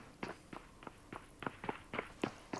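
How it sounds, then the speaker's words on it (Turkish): Footsteps in the PUBG Mobile video game thud in a steady walking rhythm, about ten distinct close steps at an even pace with no talk. "Ayak sesini o tarafta vereyim."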